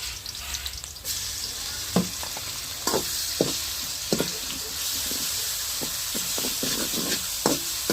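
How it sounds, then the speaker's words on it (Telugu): Onions fry in a pan over a wood fire outdoors, a steady close sizzle with scattered clinks and scrapes of a spoon stirring, no talking. "ఎర్రగడ్డలు అయితే మంచిగా ఎగుతాయి."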